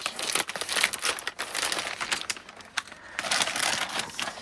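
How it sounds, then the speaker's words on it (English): Plastic packaging around a parcel of art supplies crinkles and rustles close up in a dense, irregular crackling burst that lasts a few seconds, with no voices. "let's just once again open this up, and I apologize for the crinkling"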